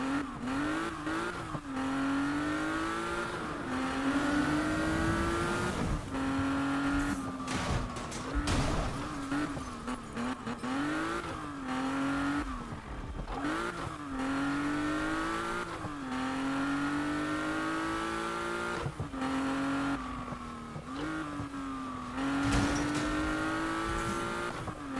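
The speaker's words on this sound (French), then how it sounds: "Quand même le bruit d'une Porsche, hein, ça s'entend." A Porsche engine in the Need for Speed racing video game revs hard and loud, climbing through repeated gear shifts with brief drops between them, alongside occasional tire noise, with no voices.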